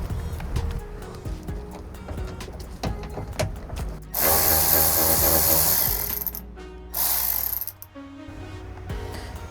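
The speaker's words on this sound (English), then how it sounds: "there's just two 10mm bolts that we're going to get out and then slide the light out" A ratchet working loose the two 10mm bolts that hold the tail light on a 2025 Toyota Tacoma TRD Off-Road, with close clicking and a sustained loud whirring burst midway, then more clicks.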